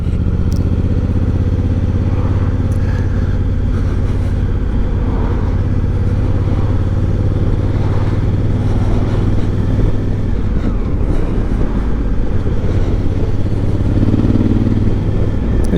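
Hire motorcycle ridden at speed, its engine giving a steady in-between whine with a slight rattle, loud and close with rushing wind noise throughout and no talk.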